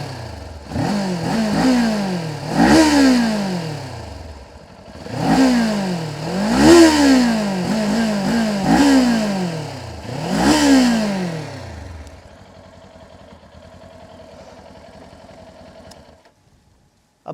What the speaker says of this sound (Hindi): अब देखिए ट्विन सिलेंडर इंजन है, उसकी आवाज़ तो आप सुनना ही चाहेंगे, और हम इसे ज़रा फायर करके देख लेते हैं